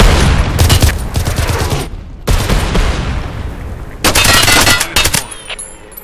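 Bursts of rapid automatic gunfire in the online shooter Hired Ops, several loud close volleys separated by short pauses, with sharp repeated shots and booming echoes.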